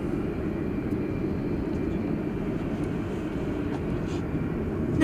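An Airbus A380 airliner at DFW Airport at night produces a steady, broad jet-engine roar that holds at an even level throughout, heard from a distance.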